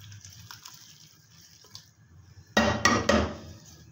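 Thick jaggery sugar syrup is poured into cooked rice in a pot, giving a burst of loud wet splashing and sloshing that lasts about a second and a half. Before it come quieter kitchen clatter and background hum.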